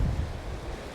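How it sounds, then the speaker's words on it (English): Rushing water from a waterfall on the rocky Shetland coast, a steady broadband roar that comes through close and fairly loud, mixed with gusting wind buffeting the microphone. "Bit of a waterfall."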